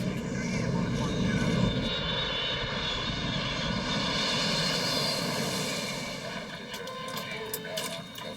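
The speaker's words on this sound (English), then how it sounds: "At 9:03 p.m., Egypt Air Flight 648 is finally cleared for takeoff." An Egypt Air airliner, Flight 648, takes off at night with a loud, continuous engine roar that holds steady and then gradually fades away.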